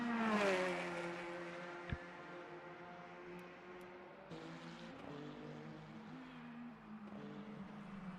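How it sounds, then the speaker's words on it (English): Race car engine from the Le Mans Ultimate racing game, including a Corvette, a high engine whine that sweeps down in pitch as the car screams past, then a lower steady drone with a sharp click near two seconds. "It's a good noise, that engine."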